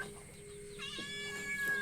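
A cat meows indoors, one drawn-out tonal call rising and wavering over a low steady background hum, close and clear.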